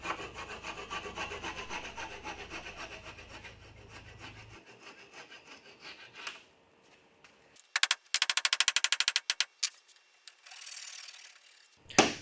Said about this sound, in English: I just cut these off with a handsaw